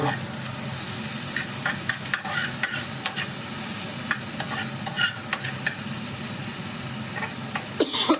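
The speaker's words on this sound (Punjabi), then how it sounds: "ਸ਼ਿਮਲਾ ਮਿਰਚਾਂ ਨੂੰ ਤੇ ਆਹ ਸਾਰੇ ਮਸਾਲੇ ਨੂੰ ਆਪਾਂ ਇੱਕ ਵਾਰੀ ਭੁੰਨ ਲਾਂਗੇ" Capsicum and spices roasting in a pan for a Rajasthani paratha, giving a steady sizzle with repeated scraping stirs and a few sharp clicks, close and alone with no talking.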